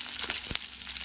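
Curry leaves and coriander tempering in hot oil crackle and sizzle in a steady, close, bright spray, with a couple of sharper pops in just over a second and no talk.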